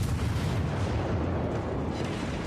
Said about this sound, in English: I keep firing at this Missouri, setting him on fire